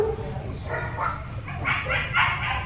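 Several dogs, including bigger ones kept at the back, bark and yip in short repeated bursts at moderate distance over a steady low background hum, with no speech.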